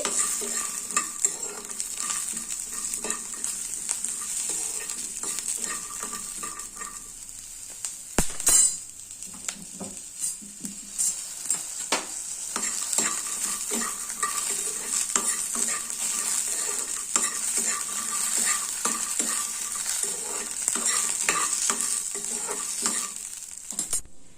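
Ingredients for coconut chutney are lightly fried and stirred in a pan, with a soft continuous sizzle, frequent scraping and clinking of a utensil against the pan, and one sharper knock partway through.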